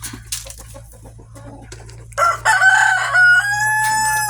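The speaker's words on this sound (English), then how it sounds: "this is how I gotta do these chickens" A few soft clucks and scattered noises lead into a loud, close rooster crow that stretches out over several seconds.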